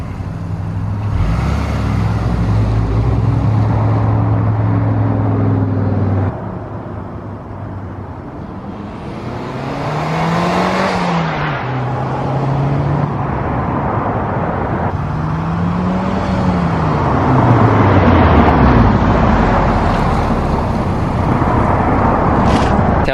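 A car drives past loudly, its engine swelling as it approaches and fading as it moves away, with repeated revving pulls.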